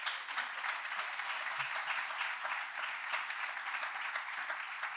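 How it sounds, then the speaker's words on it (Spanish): A church congregation applauds in a steady, even burst of clapping heard at a moderate distance, with no voices over it. "Dale un fuerte aplauso al Señor."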